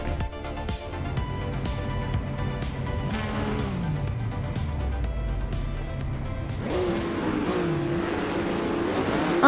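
Race cars roar off the start at Twin Ring Motegi East in a racing video game, a dense layered engine drone with rising revs and pitch sweeps, one car's note falling away before the pack surges louder again near the end.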